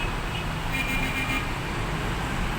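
Steady street traffic on Abu Qir Street, a continuous broadband rumble of passing cars and road noise heard from above, moderately loud and unbroken throughout.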